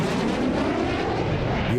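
Airplanes of a new Colombian government fleet flying overhead, a loud steady broadband engine roar that fills the whole moment without a break.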